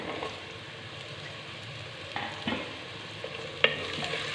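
Half a kilo of washed, peeled, cut pumpkin pieces frying in oil in a home kitchen, a steady soft sizzle with occasional stirring scrapes and a sharp utensil click near the end, no voices.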